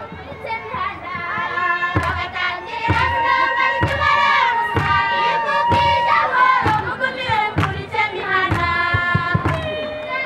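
A dense, lively crowd throngs a Trees for Life ceremony in Uganda, with children's voices, shouting and chatter blending with music and rhythmic thumps, steady and close throughout.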